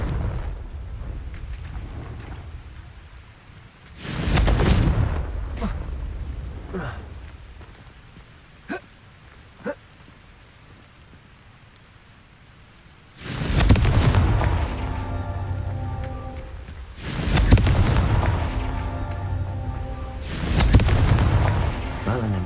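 Confringo fire spells blast in a Harry Potter video game, landing as four loud, sustained explosive bursts separated by quieter stretches with a couple of sharp clicks between them.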